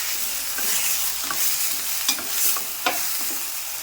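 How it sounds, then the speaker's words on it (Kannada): Tomatoes and onions frying in a pan for a tomato bhaji, a steady close sizzle with occasional stirring scrapes and soft clicks, no talking. "ಈ ಟೊಮೆಟೊ ಹಣ್ಣು ಫುಲ್ ಸಾಫ್ಟ್ ಆಗೋ ತನಕ ಫ್ರೈ ಆಗುತ್ತೆ ಇದು ಉಳ್ಳಾಗಡ್ಡಿ ಒಳಗೆ"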